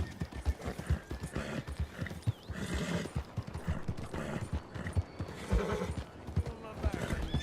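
Hooves clatter in quick bursts and a horse neighs after two riders collide in Red Dead Redemption 2, the thuds and whinnies close and loud among game sounds and a voice talking over them.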